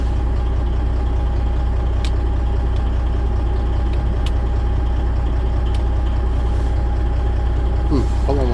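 Truck engine idling up close with a steady low rumble and rapid throb; faint clicks come through near the end.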